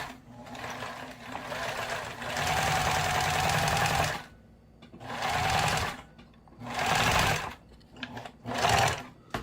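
Sewing machine motor winding thread onto a bobbin, a loud steady whirring hum in four bursts of a few seconds each, stopping and restarting with short quiet gaps between.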